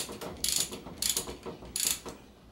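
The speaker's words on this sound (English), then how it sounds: "Get my ratchet wrench on here and just kind of tighten these on" A ratchet wrench clicks in three quick bursts of rapid pawl ticks, tightening plastic fork boot fittings during a RockShox Indy C suspension fork service. The ticking is close and clear over a quiet room, with no talk.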